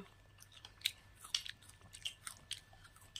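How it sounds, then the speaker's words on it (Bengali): Guava bitten and chewed up close, several crisp crunchy bites and chewing sounds spread across a few seconds, fairly quiet with no talking. "পেয়ারাটা খাচ্ছি, একটু মিষ্টি আছে তাই"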